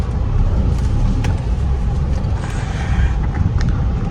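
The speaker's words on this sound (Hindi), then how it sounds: "अब गाड़ी हमारी फर्स्ट गियर में आ गई, अब चल रही है" A car pulling away in first gear, giving a steady low engine rumble and road noise heard from inside the cabin, close and fairly loud, with no talk.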